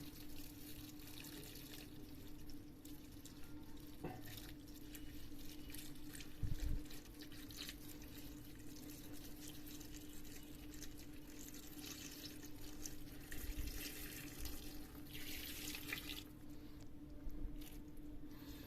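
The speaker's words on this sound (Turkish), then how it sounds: "Şimdi dolmalarımıza sıcak suyumuzu ilave ediyoruz." Hot water is poured over Antep-style stuffed dried-vegetable dolma in a pot, a steady, quiet trickle and splash of running water continuing throughout with a brief louder slosh near the middle.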